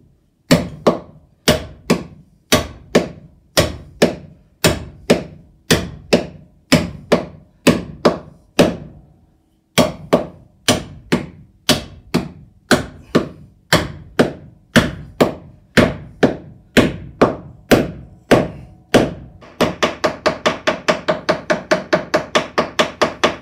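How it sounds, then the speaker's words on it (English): Square-cut copper nails are hammered into carvel boat planks at the structural floors. The sharp, close blows come in a steady rhythm of about one per second, with a brief pause, and end in a burst of quick, lighter taps. "square cut copper nails are then hammered in, one for each plank."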